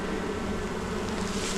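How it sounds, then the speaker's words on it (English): A swarm of honey bees in a WBC hive gives off a steady, close, droning buzz that holds evenly throughout, with no talking. "Bees in the WBC."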